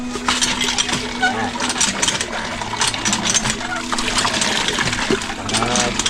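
Hand water pump being worked with water splashing and trickling, sloshing and clanking steadily through the clip while people talk nearby.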